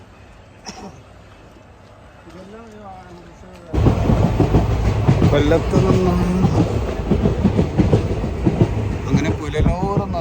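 A passenger train runs on the rails near Punalur railway station in Kerala. Someone speaks over a quiet start, then a loud rumbling roar of wheels and carriages suddenly swells up and carries on steadily to the end.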